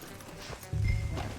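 A few hoofbeats clop close by as horses are brought to a halt in Red Dead Redemption 2, a short burst of low thuds with faint background ambience.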